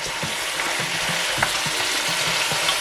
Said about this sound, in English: And you're gonna stir that around.